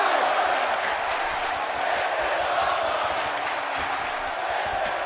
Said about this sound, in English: the crowd's on the edge of their seats.